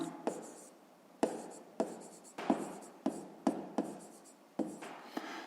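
Pen strokes scratch across paper as numbers are written by hand for a fifth-grade maths exercise: a series of close, distinct taps and short scrapes in an uneven rhythm, each mark followed by a brief quiet gap.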